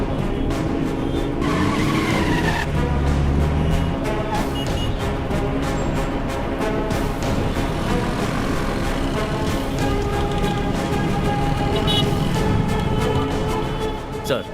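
Car tires squeal and skid as a vehicle comes to a stop, loud and sustained beneath a busy, dramatic music score, with no speech.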